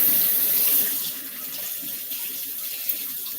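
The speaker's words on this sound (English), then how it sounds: "I'm going to wash my hands, get this dough off" Tap water runs steadily into a kitchen sink while dough is rinsed off hands, a close, even rushing splash with slight shifts in the flow and a small knock near the end.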